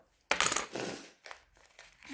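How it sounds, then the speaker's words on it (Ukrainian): A small plastic packet and paper from an unboxed parcel crinkle and rustle close up, a sharp burst followed by several softer handling crackles, no talking. "Тут якийсь пакетик і ще якийсь папірець."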